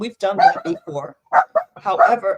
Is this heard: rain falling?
no